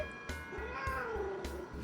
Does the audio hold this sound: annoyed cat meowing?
yes